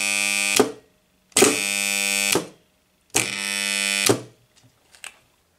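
Energized coil of an electrical contactor, a large relay for switching high power, buzzing loudly in three separate bursts of about a second each, followed by a few faint clicks and short buzzes.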